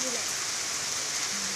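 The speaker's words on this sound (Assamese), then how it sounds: "বৰষুণ পৰি আছে" Rain pours down steadily outdoors, a dense, even hiss of drops hitting surfaces that fills the whole brief moment without letting up.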